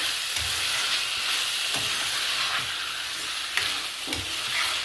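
Vegetables sauté with salt in a pan: a continuous bright sizzle broken by occasional soft thumps and scrapes of stirring, close and fairly loud.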